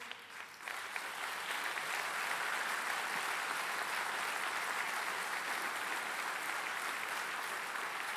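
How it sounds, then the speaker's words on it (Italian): Theatre audience applauding at an awards ceremony in Friuli, a dense, steady wash of many hands clapping that stays loud and continuous throughout. "Vi ringrazio per questo applauso"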